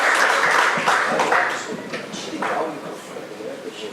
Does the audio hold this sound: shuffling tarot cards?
no